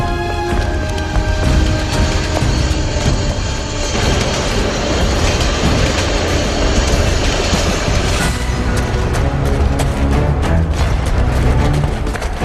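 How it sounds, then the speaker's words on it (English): A subway train runs with a loud, steady, dense roar and rattle, continuous for several seconds with clanking and rumbling. "Let's take the subway."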